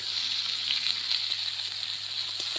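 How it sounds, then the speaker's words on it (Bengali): Diced potatoes fry with cumin seeds, salt and turmeric in a village kitchen pan, giving a steady close sizzle and hiss throughout with no talking. "আলুটাকে আমি ভালো করে ভেজে নিব"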